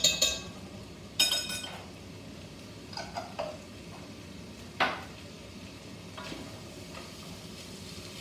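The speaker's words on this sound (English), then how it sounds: "get that nice and hot, and pop in the onion, garlic and chilies, and a heaped teaspoon of ginger" Onion, garlic and chilies with ginger fry in hot olive oil, a low steady sizzle under occasional clinks and knocks of a utensil against the pan, quiet and with no voices.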